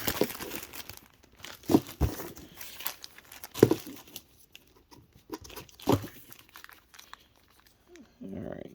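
Loose Lego pieces are stuffed into a plastic Ziploc bag, giving bursts of crinkling and rustling plastic with a few sharper crunches, and a person talks quietly between the bursts.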